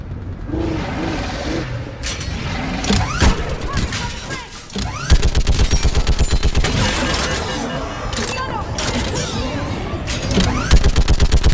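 Sustained turret gunfire in the video game Mass Effect 3, a loud, rapid stream of shots with blasts and impacts layered over one another, nearly continuous throughout with brief lulls.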